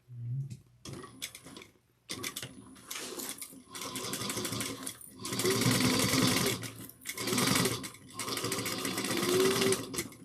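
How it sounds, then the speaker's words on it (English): A sewing machine stitches a tote bag at a 3/8-inch seam, running in several sustained bursts of rapid mechanical whirring and ticking separated by short pauses, close and clear with no talk. "I'm going to sew a stitch right beneath a 3/8 of an inch."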